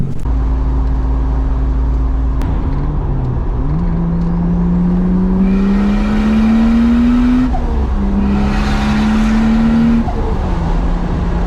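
Toyota Supra engine on its first drive, idling low and then revving up and down in several rising and falling sweeps, close and loud, with an air-hiss burst near the start.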